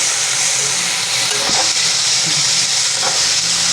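Steady sizzling of onion, tomato and coriander frying in a hot oil tempering, continuous and close, with a few soft stirring knocks along the way.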